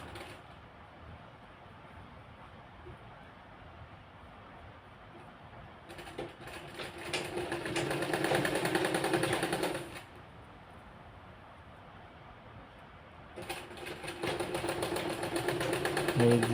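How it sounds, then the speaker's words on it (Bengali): A sewing machine stitches fabric in two bursts of moderately loud mechanical whirring, separated by quieter gaps, with a voice talking over the scene. "এই যে আমরা সেলাই দিয়ে নিচ্ছি।"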